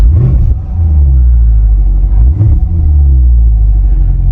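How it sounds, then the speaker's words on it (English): A loud, close car exhaust burbles and rumbles deeply in sport mode, with two brief revs rising and falling over a steady low engine drone from a warmed-up, hurricane-flooded car. "Going to sport mode, I can hear the exhaust open up already."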